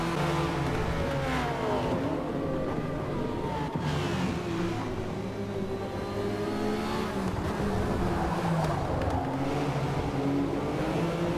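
Several GT1 race cars in Forza Motorsport battling on track, engines revving and shifting in rising and falling sweeps with cars passing close by, loud and continuous.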